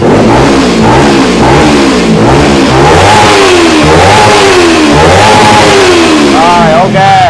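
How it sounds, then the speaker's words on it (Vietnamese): Kawasaki Z300 motorcycle with a modified, baffle-drilled exhaust revving repeatedly, loud and close, with rising and falling engine pitch in steady bursts across the whole stretch. "con này á là móc bô, nghe rất là hay nha anh em"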